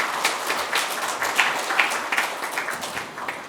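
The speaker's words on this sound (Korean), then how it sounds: "우리 큰 박수 부탁드리겠습니다" An audience at a National Assembly suicide-prevention policy seminar breaks into sustained applause, a steady wash of many hands clapping in a hall, even and moderately loud throughout with no speech over it.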